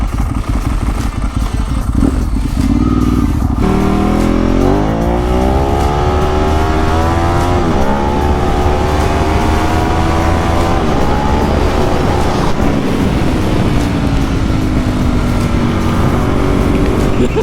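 Passing traffic roars around a rider on a Ducati 1098 motorcycle, with the close engine whine sweeping up and down in pitch and loud, continuous road and wind noise throughout.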